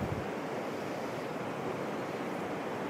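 Ocean waves and surf make a steady, broad wash of noise with faint wind, continuous and even at moderate loudness, with no voices.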